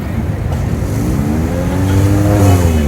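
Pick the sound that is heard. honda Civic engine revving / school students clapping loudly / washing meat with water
honda Civic engine revving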